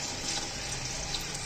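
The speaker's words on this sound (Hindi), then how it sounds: "अब मैं इसके अंदर 2 किलो दूध ऐड करूंगी" Two kilograms of milk poured into a pot of cooking petha halwa, a steady, close liquid rush that lasts the whole moment with no talking.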